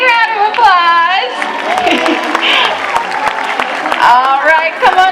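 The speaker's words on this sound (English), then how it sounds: "Everybody give them a big round of applause." Audience applause fills the stands at SeaWorld San Diego's Orca Encounter show, a steady broad wash of clapping and crowd noise, with an announcer's amplified voice talking over it at the start and end.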